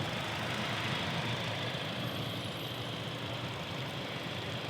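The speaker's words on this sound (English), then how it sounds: "So this is a 4-cylinder engine" A Hyundai Santa Cruz 2.5-liter turbocharged four-cylinder idles steadily at close range, a constant low hum and broadband whir running unchanged throughout with no voices.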